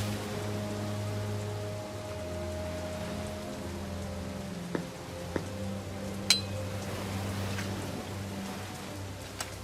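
Steady rain falls in the fantasy adventure game The Dark Eye: Chains of Satinav as an even hiss over a low ambient drone, with a few faint clinks and drips scattered through.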